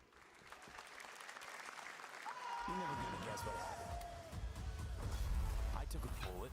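A crowd cheers and applauds at the Summer Game Fest 2025 showcase, a dense, sustained roar of clapping that swells toward the end, with a voice partly audible over it.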